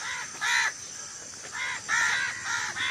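Crows caw in a Pakistani village on a morning walk, giving four or five harsh, drawn-out calls in quick succession, fairly close and clear over quiet background hiss.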